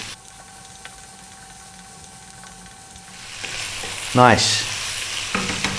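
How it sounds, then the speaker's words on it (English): Potatoes stir-fried over lively heat for saag aloo, a steady sizzle building through the second half with busy stirring and a sharp scrape near the end, a brief spoken word in between. "on this lively heat, you need to be stirring pretty much all of the time"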